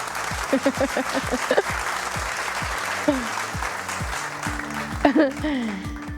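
An audience in a quiz show studio claps for a young contestant, brisk applause under a voice talking over it and bits of music.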